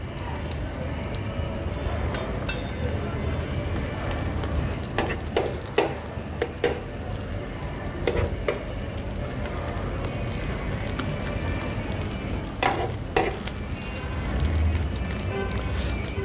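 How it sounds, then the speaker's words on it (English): An egg fries on a paratha in a hot pan, a steady close sizzle broken by scattered crackles and spatula scrapes, with no talking. "I'm taking the side that is fully cooked and putting it onto the paratha"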